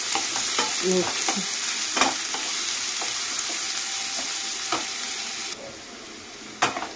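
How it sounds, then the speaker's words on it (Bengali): Chopped onions fry in a pan for a meat curry while being stirred, giving a continuous soft sizzle broken by repeated scraping clicks of the spoon against the pan; a brief spoken word comes near the end. "তো আমি পেঁয়াজটা দিয়ে ভালো করে নাড়িয়ে চাড়িয়ে"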